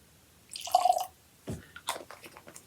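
Caol Ila 18 Year Old Islay single malt whisky poured as a dram into a glass, one short close splash and trickle of liquid followed by a few soft handling knocks.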